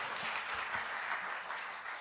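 A crowd at a Korean political forum applauds, a steady, fairly faint wash of many hands clapping that carries on through the whole moment with no talk over it.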